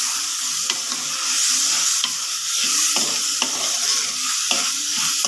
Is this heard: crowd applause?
no